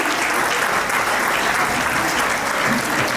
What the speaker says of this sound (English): can we have a big round of applause to all the meticulous contributors